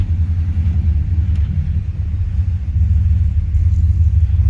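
A tuned car engine, freshly recalibrated by KTL Restorations for the Artemis project, idles with a steady deep low rumble, loud and close, with a slight swell toward the end and no talking.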